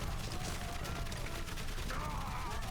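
Dense First World War gunfire in Valiant Hearts: The Great War, a continuous rattling barrage of shots at moderate distance with a rising whine near the end, faint under the game's sound.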